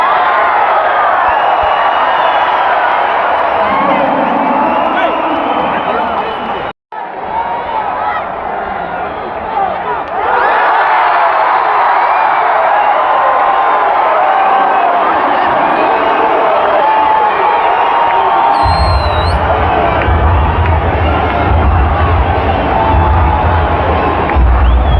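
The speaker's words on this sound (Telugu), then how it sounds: "అందుకే ఇంత అరుపులు." A packed crowd at an IPL cricket match between RCB and GT at Chinnaswamy Stadium shouts and cheers continuously, a loud, sustained roar with whoops and swells, and a deeper rumble of noise joins near the end.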